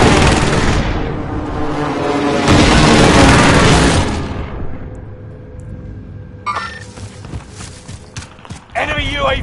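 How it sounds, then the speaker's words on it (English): Precision airstrike explosions in a video game, a dense roaring barrage of blasts for about four seconds that fades into rumbling, followed by scattered sharper impacts and a brief spoken game announcement. "Allied precision airstrike incoming"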